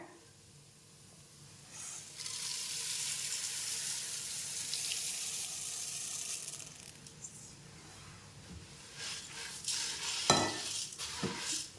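Puffed rice (pori) being stirred in a pan gives a soft, dry rushing rustle that swells for several seconds, then gives way to scattered scrapes and clinks toward the end. No voices.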